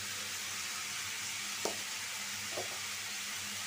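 Salt and turmeric powder sizzle in a hot pan, a steady close hiss throughout with two brief soft scrapes of stirring; no voices.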